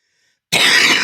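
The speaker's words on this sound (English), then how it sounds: "This cough. This cough." One loud, close cough bursts out suddenly after silence and rasps on without a break to the end.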